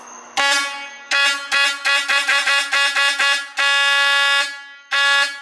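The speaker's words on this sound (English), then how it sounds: "We're doing the little stubby ambulance air horn." A small stubby ambulance air horn blasts loud and close: one burst, a rapid series of short staccato toots, then a couple of longer sustained blares.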